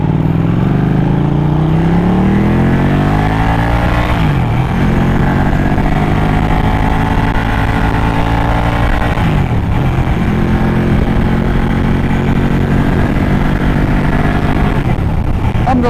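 A Ducati 1199 superbike engine growls loud and steady while riding, rising through a couple of rev sweeps with the harmonics climbing, then dropping back, continuous and close throughout.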